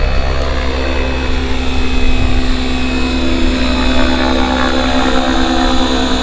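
A REX550X radio-controlled helicopter hovers nearby, its rotor and motor giving a loud, continuous buzzing drone with steady whining tones that barely waver throughout.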